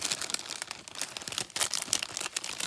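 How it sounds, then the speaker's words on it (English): Plastic packaging crinkles and rustles close up while a pack of Anna Griffin Salon Nouveau sentiments is unboxed, a busy run of crackly, papery bursts with no talk. "you'll have to forgive the crinkling"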